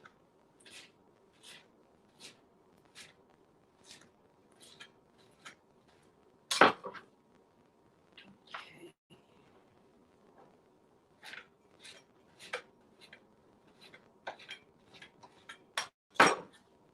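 Sea moss being chopped into small pieces with a knife on a board, a steady series of faint, crisp taps with a few louder knocks, close and quiet, with no talk.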